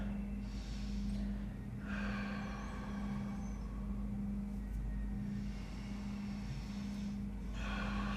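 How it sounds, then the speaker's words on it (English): Deep breaths in and out during a stretching exercise for low back pain, slow swelling inhales and exhales repeating every few seconds, soft and close over a steady low hum. "3 deep breaths in and out."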